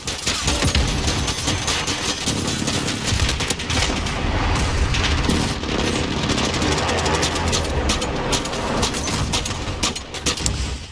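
Rapid, continuous bursts of AA-12 automatic shotgun fire in a video game, loud and dense booms running nearly nonstop for about eleven seconds with no talk.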